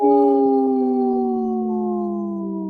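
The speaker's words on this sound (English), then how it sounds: "Howling for Wolves, protecting wolves for future generations." A long, loud howl, like a wolf, holds a steady tone and slowly slides downward in pitch for nearly three seconds, with no voices.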